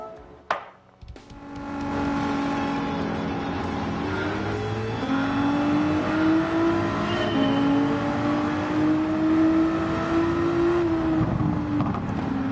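GT4 race car engines roar at the start of a race at Brands Hatch in a racing game, a sharp click giving way to a steady, loud engine drone that rises in pitch through the gears.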